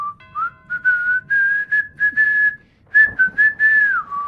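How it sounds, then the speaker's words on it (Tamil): An eerie human whistle carries a wavering tune in a series of short and sustained notes with brief gaps, loud, close and clean against near silence. "அந்த விசில் சத்தம் நம்ம பக்கத்துலேயே இருக்கிற மாதிரியும்"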